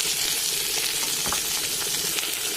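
Tomatoes hit a hot pan already holding cumin and chili paste, giving a steady, close, bright sizzle of frying with a brief stirring scrape midway and no talk.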